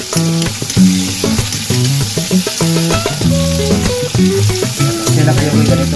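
Mushrooms frying and being stirred in a pan, a steady loud sizzle broken by scraping and clattering of the utensil, with faint music running underneath and no talking.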